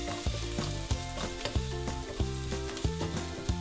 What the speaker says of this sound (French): on va verser 2 cuillères à soupe d'huile de tournesol et on va faire revenir l'ail jusqu'à ce que l'ail prenne une couleur dorée